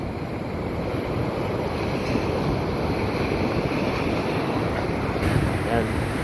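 Sea waves washing against the shore with strong wind buffeting the microphone, a constant loud rumbling roar without pause.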